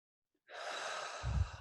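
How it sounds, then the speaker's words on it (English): A single long, close sigh-like exhale of breathing during a quiet meditative pause, rushing out from silence and ending with a soft low puff of breath. "and breathing."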